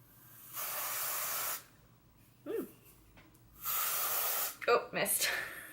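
Aerosol deodorant sprays in two steady hissing bursts of about a second each, close and fairly loud, with quiet breathy sounds and a short scuffle between them.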